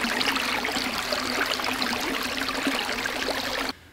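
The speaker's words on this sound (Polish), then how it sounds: "I ostatnia rzecz, jaką nagram, to będzie dźwięk tego strumyka." A small stream flows with the microphone held right up close, a loud steady babbling rush of water that continues evenly and then cuts off abruptly near the end.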